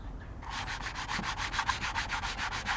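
Hand sanding of a deep scratch in car paint with 600 grit sandpaper, a close, steady run of rhythmic back-and-forth rasping strokes about four or five per second after a brief quiet start.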